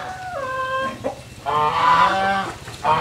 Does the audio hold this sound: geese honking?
yes